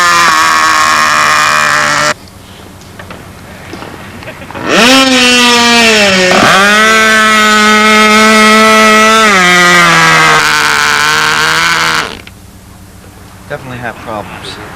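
A Windy SeaFire model airplane engine runs with a loud, steady buzzing drone that rises sharply, holds for several seconds, then cuts back, with people chatting nearby before and after.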